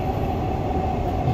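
A Dubai Metro Green Line train runs with a loud, steady low rumble and rolling wheel noise heard from inside the carriage, without voices.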